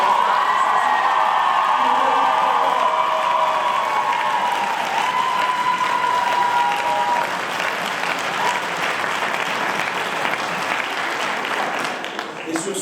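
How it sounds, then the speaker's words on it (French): Audience at a French-language debate cup final claps long and hard for three debaters, sustained loud applause with cheers, whoops and scattered voices mixed in before it thins out near the end. "J'aimerais quand même qu'on applaudisse très fort la prestation de vous trois."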